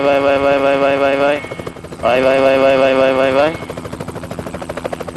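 A rescue helicopter hovers over the sinking Costa Concordia cruise ship, its steady rotor and turbine drone loud and close, briefly dipping midway, while a man calls out in Italian over it.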